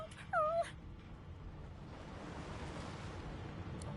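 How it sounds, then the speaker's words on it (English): In a video game, a dog gives one short, clear whine near the start, followed by quiet background ambience with no talking. "The dog whines"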